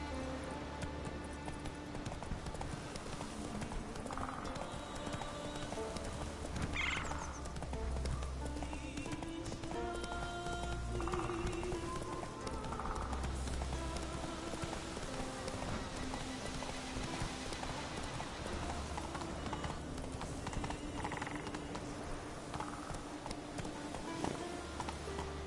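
Roach, a horse in The Witcher 3 video game, gallops with steady rhythmic hoofbeats that continue across the whole stretch, fairly faint and mixed beneath game music and ambience.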